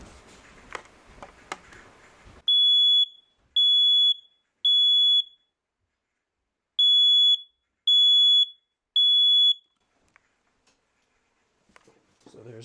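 Smoke detector sounding during a test: two groups of three loud, piercing, evenly spaced beeps with a silent gap between them, preceded by brief handling clicks.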